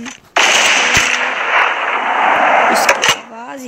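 Rapid automatic gunfire from an MGM gun in the video game Free Fire, a dense burst lasting about three seconds with a few sharp cracks near the end, loud and close.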